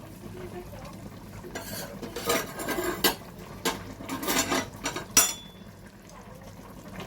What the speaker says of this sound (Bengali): একটু জাস্ট নাড়াচাড়া করে দিচ্ছি ধনে পাতাগুলোকে